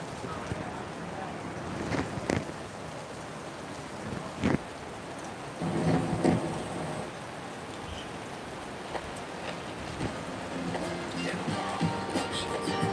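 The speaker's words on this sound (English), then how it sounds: "So hopefully the rain stops." Rain patters steadily in Denver, Colorado, a constant hiss broken by sharp knocks and a low rumble, with people talking intermittently nearby.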